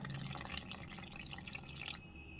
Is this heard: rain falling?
no